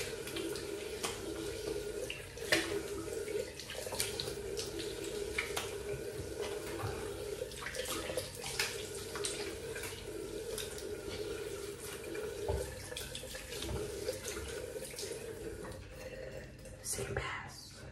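A bathroom tap running steadily while rinsing after a wet shave, a continuous close splashing stream with occasional water clatter; soft speech is heard over it.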